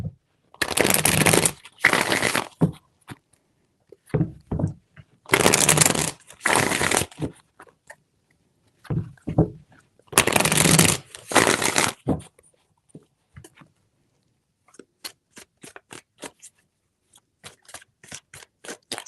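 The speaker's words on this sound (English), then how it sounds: "Three shuffles for Libra." Tarot cards riffled and shuffled by hand in several loud bursts of crisp flapping, with shorter taps and soft card clicks between, ending in scattered light ticks as the deck settles; close and alone, no speech.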